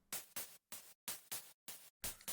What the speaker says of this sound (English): Other layer I have here is this white noise layer.